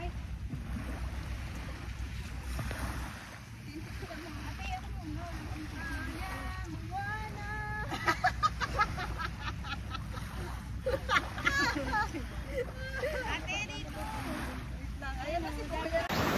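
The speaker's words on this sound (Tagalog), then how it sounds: "Lakas ng alon. So, maalon here." Surf rolling onto Dini Beach, a steady broad wash of ocean waves under frequent nearby voices of people chatting and calling out.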